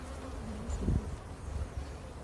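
Honey bees buzz steadily around a hive, a close, continuous insect drone that swells briefly partway through with no talking.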